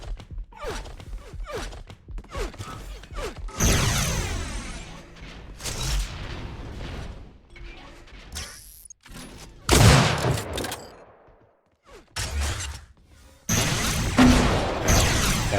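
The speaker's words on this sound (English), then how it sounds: "Nice rockets there." Rocket launcher shots and explosions in Unreal Tournament, from a competitive UTProLeague match, come in loud bursts with booming blasts, broadband whooshes and gaps of quieter footsteps and game noise between them.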